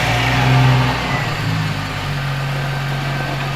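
Jeep engine cranking to life then revving and settling into a steady low idle, loud and close, with no talking.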